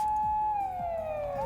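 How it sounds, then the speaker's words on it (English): A police car siren in a video game wails steadily at night, its pitch sliding downward, loud and close with a low pulsing rumble beneath. "A shrill siren shatters the night."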